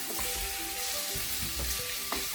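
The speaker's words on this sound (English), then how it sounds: "1 to 2 tablespoons of curry powder, like so. And you just want to stir that in" Curry powder is stirred into a hot frying pan for coconut curry king prawns, a low crackling sizzle with spatula scrapes and soft knocks close by, fairly quiet and steady.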